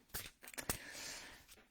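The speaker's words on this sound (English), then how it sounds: "And let us shuffle" A Brian Froud Faeries Oracle card deck is shuffled by hand, giving quiet, close papery riffles and flicks in a few short bursts.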